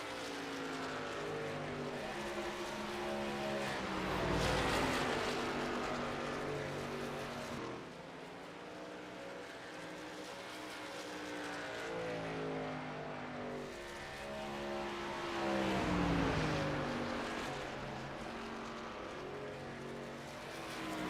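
Race trucks roar around the track at the South Carolina 200, engines droning steadily with rising and falling pitch as the pack passes close by, loud and continuous with no voices over it.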